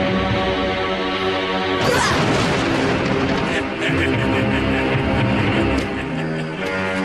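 Gunfire and crashing impacts from an Indonesian legend film, loud booming blasts and smashing layered over a sustained music score, with a sharp burst near two seconds and ongoing clattering hits.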